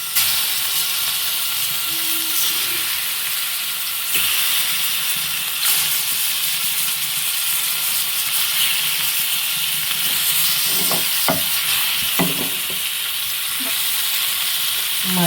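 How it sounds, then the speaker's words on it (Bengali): Pangas fish pieces coated in salt, turmeric and chili powder fry in a pan with a loud continuous sizzle and hiss, joined by a few clattering knocks and light stirring toward the end. "মাছগুলো আমি ফ্রাই প্যানে দিয়ে নিলাম।"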